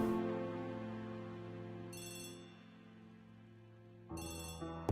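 Telephone ringing in a detective game, a sustained electronic ring tone with bright bell-like bursts repeating twice, heard alone and moderately loud.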